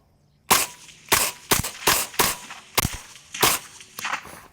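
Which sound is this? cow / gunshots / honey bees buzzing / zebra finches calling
gunshots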